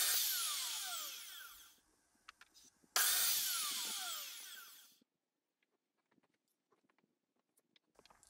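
Two short bursts of a power saw cut light timber pieces for a rabbit tractor, each a loud, high whine that fades as the blade slows, followed by faint handling clicks.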